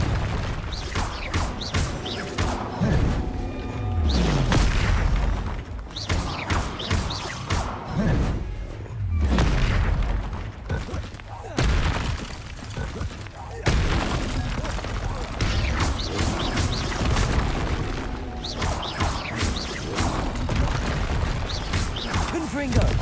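Repeated blasts from the Confringo explosion spell in the video game Hogwarts Legacy, heavy booms and crashes recurring throughout amid dense combat effects and music, fairly loud and continuous.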